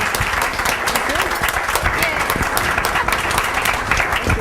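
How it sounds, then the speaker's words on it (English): Audience applause for a panel at the close of a childcare jobs discussion event: dense, steady clapping from a crowd filling the whole stretch without pause. "I want to give a big round of applause to our panel"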